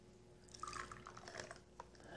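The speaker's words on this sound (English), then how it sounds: "I'm going to dump just a little bit of water off here." A little excess water is tipped off the top of fermenting injera batter in a container, a faint, close trickle with small drips and splashes that ends in a brief final spill.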